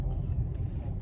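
A car driving along the road, with a low steady engine and road rumble heard from inside the cabin and no clear talking over it.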